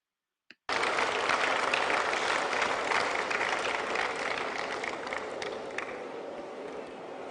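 Audience applause at a Jamaican gathering breaks out suddenly and sustains as dense, steady clapping, then gradually thins toward the end, with no talking over it.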